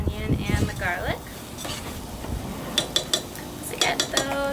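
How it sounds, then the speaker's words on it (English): A spoon stirs onions and garlic in coconut oil in a pot over a campfire, giving scraping and clinking strokes against the metal with a soft sizzle beneath, and a voice talks briefly at the start. "I'm going to stir that up so the coconut oil coats the onion and the garlic."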